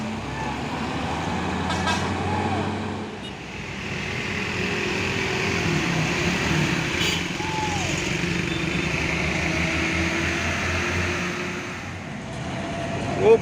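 Two Hino 500 trailer trucks hauling concrete piles labor up a hill one after the other, a loud, steady diesel engine drone close by that swells and eases, with a short horn toot at the end.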